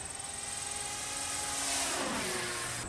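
A DYNAM RC model warplane, such as a P-51 or Spitfire, buzzes past in the open air, its steady electric whine rising and then fading as it swooshes by at moderate distance.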